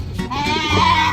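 A goat bleats loudly and close by in a farmyard, one sustained wavering cry lasting about a second.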